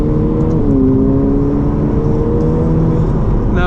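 A Ferrari F8 Tributo driving under power, a loud steady engine hum with rising tonal whine layered over a constant road rumble, heard from inside the car with no talking.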